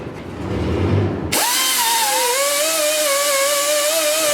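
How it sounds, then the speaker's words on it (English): A gasket removal tool scrubs old gasket material off a differential's metal surface down to bare metal. After a brief quiet start, a loud, close, high whining spin kicks in and holds, its pitch wavering slightly as it bites. No talking. "I'm going to take my gasket gun and take off the remaining material, so it's just bare metal"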